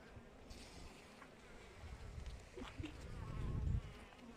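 Carniolan honey bees hum at an open hive in a steady, low buzzing drone that swells louder toward the end, with faint handling noises nearby.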